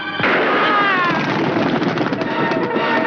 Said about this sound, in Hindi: मैंने ये गोली चलाई भैया।